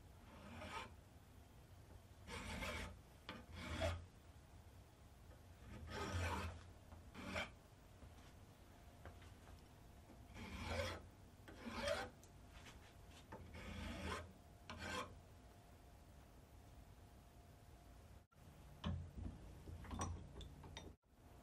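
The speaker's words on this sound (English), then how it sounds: "I'll use a file by hand to put a very small chamfer all the way around" Hand file rasping a small chamfer around the outside edge of a metal gun barrel, repeated scraping strokes in uneven bursts with short pauses, close and fairly quiet, no voices.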